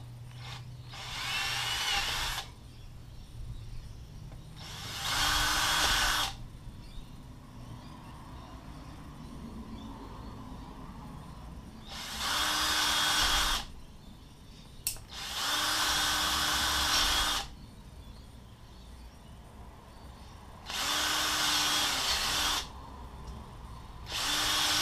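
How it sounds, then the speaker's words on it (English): A power drill bores finger holes into a bamboo flute: five loud whirring bursts of a few seconds each, separated by quieter pauses, close to the mic with no talking. "Okay, so we drill the holes."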